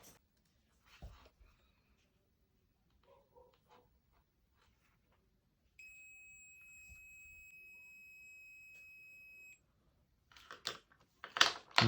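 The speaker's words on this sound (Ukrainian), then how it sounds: "Метр пищить." A multimeter gives a steady continuity beep while its probes touch a pencil's graphite rod, a thin, even tone lasting about four seconds after some faint handling clicks, followed by louder rustling at the end.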